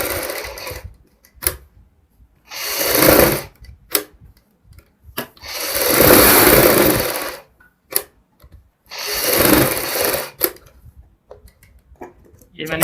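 Sewing machine stitching a second line over an existing seam on a sweetheart kurti neck, running in three long loud bursts with short pauses and brief ticks between.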